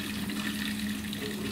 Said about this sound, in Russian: Даже что-то булькает, воздух что попадает идет.